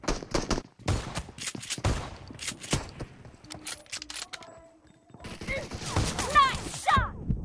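Gunfire in PUBG Mobile, with sharp bursts of shots and rapid volleys, including shotguns and a Scorpion, spread in clusters across the clip, then a dense flurry near the end, while players talk over it.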